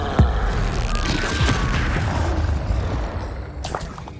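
A Bombarda explosion spell going off in Hogwarts Legacy, a sharp booming blast at the start followed by a sustained rumbling, crackling wash of debris and effects, loud and up front, with no talk.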